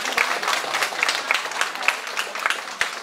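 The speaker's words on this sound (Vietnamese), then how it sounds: "Chúng ta xin cho một tràng pháo tay cho." Dense audience applause fills a Vietnamese community association's tenth-anniversary celebration in Kitchener, with many hands clapping steadily and loudly for the whole stretch and no voices over it.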